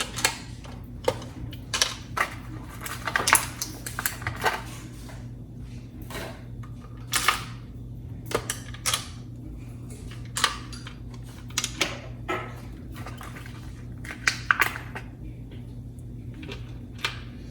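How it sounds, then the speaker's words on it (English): Small screws dropped one at a time into holes during a battery replacement on a Eufy 11+ robot vacuum, sharp light clicks and taps at irregular intervals over a quiet background, close up. "you take all your screws, drop them in the holes"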